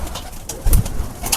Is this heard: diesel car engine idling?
no